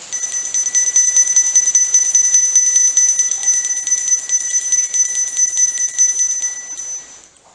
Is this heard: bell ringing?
yes